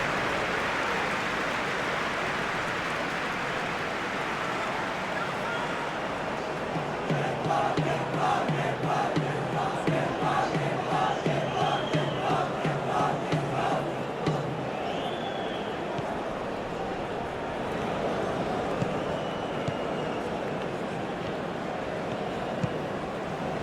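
Stadium crowd noise from a simulated FIFA World Cup 2026 group-stage football match between the Netherlands and Japan, a steady roaring wash that swells with chanting and cheers in the middle before settling back.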